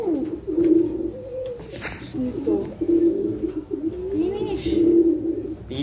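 Racing pigeons coo in low, throaty, repeated rolling calls, close and steady, with some background noise and rustling.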